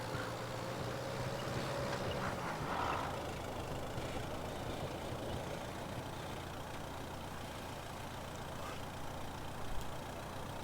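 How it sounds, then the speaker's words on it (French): Car engine in the game Mafia: Definitive Edition, a steady low idling rumble with a faint tonal whine that drops away after a couple of seconds, then continuing as a dull, even drone with faint noise. "Elle avance pas la bagnole."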